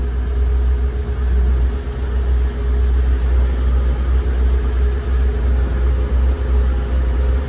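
A boat engine hums at a loud, steady low drone with a constant rumbling throb, holding an even pitch throughout with no clear rise, and no voices over it.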